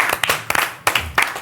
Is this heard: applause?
yes